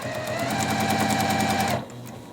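A sewing machine runs steadily, stitching across the seam intersections of a Sawtooth Star quilt block, with a rapid, even needle rhythm that stops abruptly near the end, leaving a quiet room.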